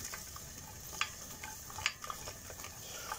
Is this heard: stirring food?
yes